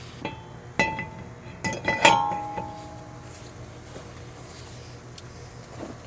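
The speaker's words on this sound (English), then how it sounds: "we're going to slip our rotor on" Metal brake rotor being slipped onto the hub of a GMC Acadia during a CV axle job, giving a few sharp metallic clinks and knocks close by, clustered early, then quiet shop background.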